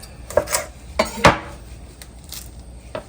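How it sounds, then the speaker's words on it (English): Knife strikes on a board while jumbo shrimp is chopped, a few separate sharp knocks spaced irregularly with one heavier clack in the middle, close and moderately loud with no talking. "So for some of the shrimp, I'm just going to chop it on up."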